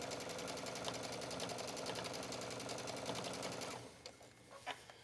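A sewing machine stitches a hooded towel in a steady, rapid run of needle strokes, close and loud, then stops near the end, leaving a few faint clicks and handling sounds.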